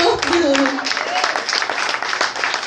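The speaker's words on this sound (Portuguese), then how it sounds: "Aplauda o Senhor." Church congregation applauding during a sermon, a dense steady clatter of many hands, with talk and a sustained voice running over it.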